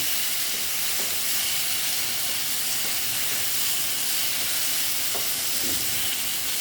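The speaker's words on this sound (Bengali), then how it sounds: "পটলের সঙ্গে অল্প আবার এটা কষিয়ে নিচ্ছি" Pointed gourd sautéing in a pan for a vegetarian moong kalia, giving a loud, dense, steady hiss of frying with faint soft stirring knocks beneath it.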